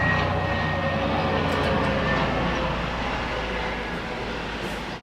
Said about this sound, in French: il y a un hélicoptère qui passe maintenant